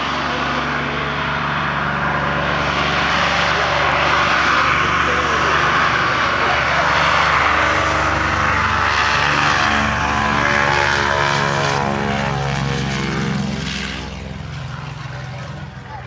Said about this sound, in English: on the runway now, our C-46 Curtiss Commando on the takeoff roll